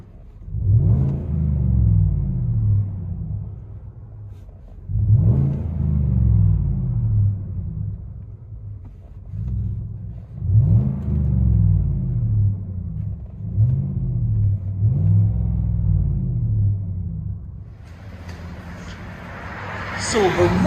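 A 2018 Chevy Silverado Z71 LTZ with a 5.3L V8, Flowmaster 40 Series exhaust, resonator delete and a single 4-inch tip, heard from inside the cab. Four deep rumbling rev bursts come about every five seconds over a low idle.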